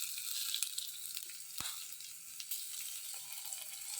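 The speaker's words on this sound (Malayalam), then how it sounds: "ഇനി കടുക് പൊട്ടിക്കാൻ വെച്ചിട്ടായി." Mustard seeds and green chillies sizzle steadily in hot oil for a Kerala-style ash gourd and meat curry, a continuous close crackling hiss with a few sharper pops, no voices.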